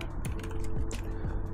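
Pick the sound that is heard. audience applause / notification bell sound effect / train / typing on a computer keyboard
typing on a computer keyboard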